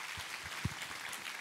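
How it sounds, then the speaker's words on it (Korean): Congregation in a church clapping in thanks during a worship service, a soft, steady patter of many hands with one louder nearby clap, fairly distant and quiet. "우리 하나님께 감사와 영광의 박수 올려 보내겠습니다."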